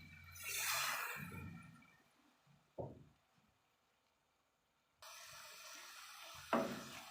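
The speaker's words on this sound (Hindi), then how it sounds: "थोड़ा सा पानी डालेंगे इसमें।" Water splashes into a pot of nimko curry during home cooking, first as a short burst of pouring, then as a steady, moderately loud rush of liquid after a quiet pause, ending with a brief louder splash.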